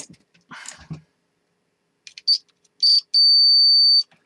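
A multimeter sounds its continuity beep testing a fuse in a BBC Master 128 power supply: two short chirps, then a steady high tone held for about a second, after brief handling noises.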